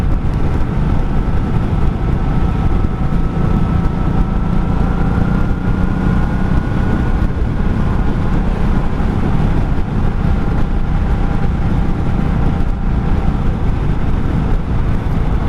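A 1984 Honda Shadow 700 (VT700C) motorcycle ridden at night, its engine drone and road rumble loud and constant throughout, heard from the rider's position with no talk.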